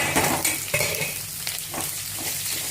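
Onions sauté in a pan with chilli and curry leaves for masala dosa filling, a loud, close sizzle with spatula scrapes and stirring strokes throughout.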